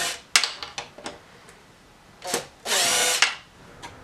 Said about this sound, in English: we're going to take the signal off by taking these two screws out.